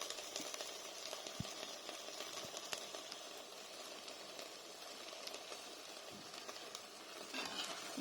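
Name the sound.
kale and stock starting to boil in pot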